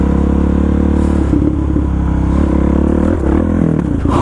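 A Suzuki DRZ dirt bike runs off-road in second gear with a loud, steady engine drone, close to the rider and at a fairly constant pitch, with some scraping and clatter mixed in.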